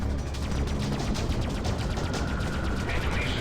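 Spaceship weapons firing in the Freelancer space combat game, a continuous rapid stream of pulsing shots, loud and steady, with a voice talking underneath.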